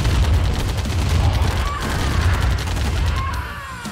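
Rapid machine-gun bursts rattle loudly and densely in Command & Conquer Remastered, a continuous stream of close gunfire with a few booming hits, easing slightly toward the end.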